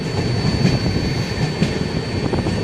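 A train arriving at Thrissur railway station on the Trivandrum to Mumbai Sampark Kranti Express, its steady rumble and rattling carriages rolling close by, with faint wheel squeals and no talking.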